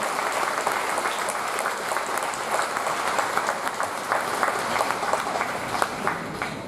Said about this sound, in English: You guys can join me in a round of applause for Dr. Holman.